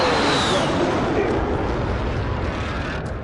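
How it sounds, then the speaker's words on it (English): Explosions from an allied precision airstrike in a military shooter game, a loud sustained rumbling roar that slowly fades over a few seconds. "Allied precision airstrike incoming."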